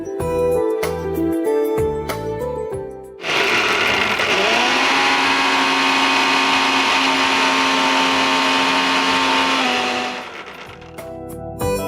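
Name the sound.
mixer grinder grinding sprouted moong with salt and water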